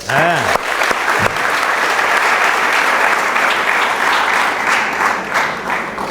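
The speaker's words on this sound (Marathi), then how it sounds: "जोरात टाळ्या वाजूया." A large audience at a 75th birthday celebration claps loudly and steadily for about six seconds, a dense close wash of hands with a brief voice at the very start.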